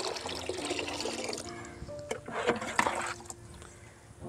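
A mug of liquid fertilizer diluted with water is poured onto tomato plants, making a splashing, trickling gush that swells in the middle and tapers off, close and moderately loud.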